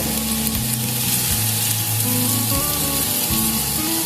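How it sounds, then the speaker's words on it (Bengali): Ginger and garlic paste fries in a pan while it is stirred, giving a steady, close sizzle with spoon scrapes and a low background hum, and no voices. "আদা রসুন বাটাটা দিয়ে ওইটাকে আমি ভালো করে নাড়াচাড়া করে"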